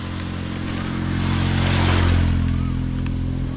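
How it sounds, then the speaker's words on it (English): A motorbike on a road in Thailand passes close by, its engine drone swelling to a loud peak in the middle and then easing away. "We're about to die from an oncoming motorbike."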